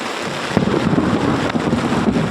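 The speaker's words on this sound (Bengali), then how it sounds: "জল পড়ছে। এই ছাতার চড়চড়া নেই, জলের এত আওয়াজ।" Heavy rain pours down over village fields during a thunderstorm with lightning, hissing loudly and continuously. A low rumble of thunder rolls underneath, and a soft thud lands just after the start.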